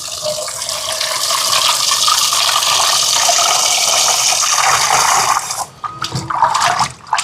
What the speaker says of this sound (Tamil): இப்போ மீனெல்லாம் வெட்டி எடுத்தாச்சு கழுவி எடுப்போம்